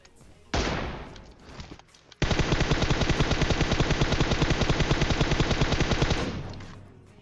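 Automatic gunfire in the video game PUBG: a short loud burst, then after a brief pause a long continuous rapid stream of shots lasting about four seconds before tailing off, close and dominant.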